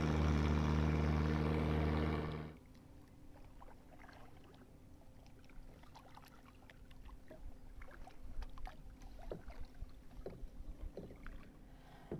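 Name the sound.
boat passing by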